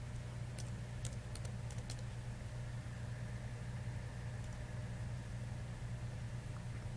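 Faint, scattered clicks of typing on a computer keyboard, a few quick keystroke bursts early on, then mostly a steady low hum.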